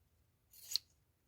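Scissors cutting fabric for a junk journal craft project, a single quick, soft snip lasting under half a second in an otherwise quiet room.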